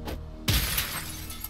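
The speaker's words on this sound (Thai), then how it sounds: "ตรงนี้มีกระจกแตก" Glass shattering in the video game South Park: The Fractured But Whole, a single sharp crash bursting out suddenly and ringing off briefly, loud and close with no talk.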